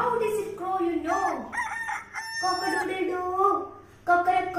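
A voice imitates a rooster, giving a drawn-out cock-a-doodle-doo crow, close and loud, with a short vocal burst at the end.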